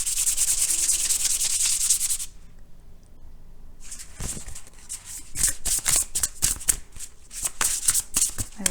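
Tarot cards being shuffled during a card reading, a steady dense riffling rustle for about two seconds, then after a pause a run of separate sharp card flicks and slaps, close and fairly loud.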